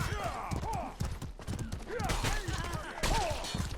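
Horse hooves clip-clop in a video game match, a quick rhythmic trotting of hoofbeats heard under lively commentator talk, with a faint whinny-like tone mixed in.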